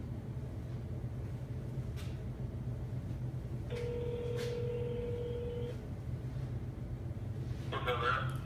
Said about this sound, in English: I gotta get Greg on the phone